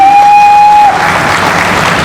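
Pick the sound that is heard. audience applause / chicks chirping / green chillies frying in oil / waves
audience applause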